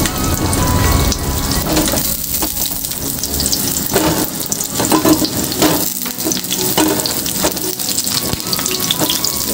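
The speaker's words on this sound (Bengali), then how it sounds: "তেল গরম হয়ে গেছে বন্ধুরা, এবার আমি পটলগুলোকে ছেড়ে দেবো" Pieces of pointed gourd fry in hot mustard oil, giving a continuous loud sizzle with bursts of crackling and occasional stirring noises throughout.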